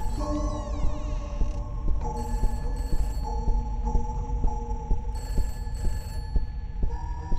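Telephone bell ringing in a horror video game set in a house, repeating in steady bursts over a low throbbing hum, fairly loud and continuous with no talk.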